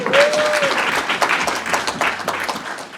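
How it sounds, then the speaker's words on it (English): Applause from a small group follows a successful practice phone call during a rent-to-rent property sourcing session, a brief burst of clapping that sounds close and somewhat thin, with a whistle-like tone briefly at the start. "Round of applause, guys."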